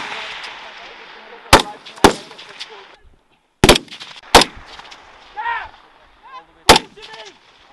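Sharp rifle shots ring out one by one during a simulated military training assault with Sandhurst cadets, about six loud cracks spread irregularly across the clip, with honking goose-like calls and a brief quiet gap between bursts.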